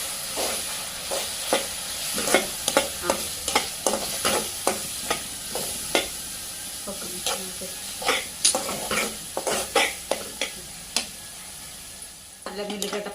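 Ginger-garlic paste frying and being stirred for a mushroom curry, with a steady sizzle under a long run of sharp, regular scrapes of a spoon against the pan, close and fairly loud throughout.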